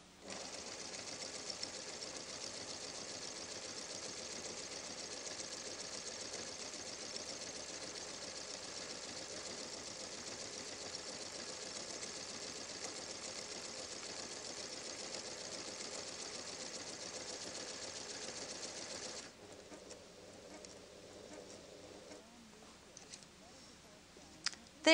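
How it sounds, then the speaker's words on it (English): A PFAFF creative 1475 sewing machine stitches out an embroidery design with presser foot number 8, a steady fast mechanical whir running about nineteen seconds before stopping, leaving quieter handling clicks and faint movement. "Let's go to the machine and sew this out."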